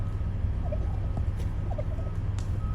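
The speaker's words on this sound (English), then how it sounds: "I don't think I've seen so many turkeys on property before." Wild turkeys gather on a resort property, and several short gobbling calls ring out at moderate distance over steady low background rumble.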